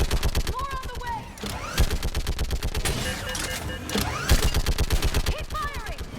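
Rapid automatic gunfire in the Mass Effect 3 video game, loud and close, firing in dense rhythmic bursts with brief pauses, accompanied by voices and other combat sounds.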